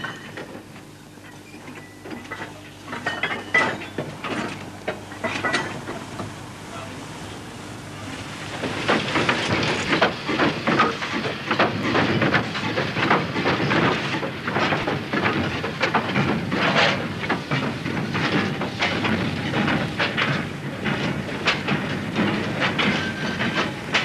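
An old industrial steam locomotive runs on rails, chuffing and clanking in a steady rhythmic beat that grows louder and fuller as it draws close, with no voices.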